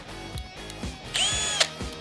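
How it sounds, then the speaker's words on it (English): A power drill with a 1/16 inch bit bores pilot holes in a Chevy Colorado fender during an AEV snorkel install, sounding as several short whirring bursts close to the microphone. "Then pre-drill with a 1/16 inch drill bit."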